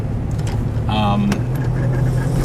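A 1980 Saab 96 V4 engine driving and shifting gears without the clutch, a low steady engine drone from inside the car with a brief rise during the shift and a voice talking over it.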